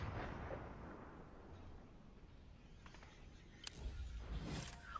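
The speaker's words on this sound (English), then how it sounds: "grenades are being thrown" Grenades burst in a video game as a series of rumbling, booming blasts. The low roar builds and fades, with a sharper cluster of explosions near the end.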